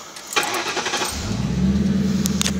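The engine of a 2000 Ford Crown Victoria with an idling problem cranks briefly, catches, and settles into a steady idle, loud and close.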